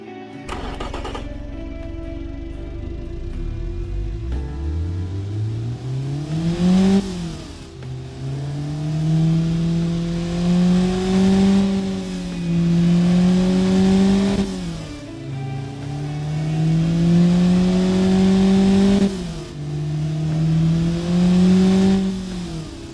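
A tuned car engine fitted with a new exhaust header revs repeatedly, each loud rising roar climbing in pitch then dropping back to idle, about three or four pulls in a row.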